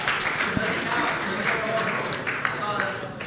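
An audience at an astronomy-night trivia event gives a modest round of applause for second place, a continuous patter of claps under a speaking voice.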